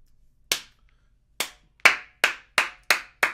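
A man claps his hands seven times in a quiet room: sharp, close, isolated claps, first widely spaced and then speeding into a steady rhythm.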